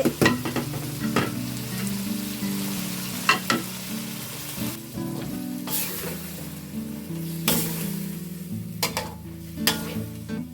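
Dory fish stir-fried with chili paste as prepared vegetables are tossed in: a loud, continuous sizzle broken by repeated sharp spatula clacks against the pan, with no voices.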